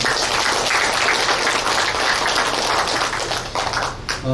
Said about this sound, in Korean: 다시 한번 박수 한번 주시죠